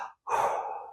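A slow, deep inhalation demonstrating a relaxation breathing technique, one long breathy draw of air close to the microphone after a brief pause, with no talking.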